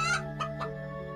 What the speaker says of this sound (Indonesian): mendengar suara ayam berkokok di malam hari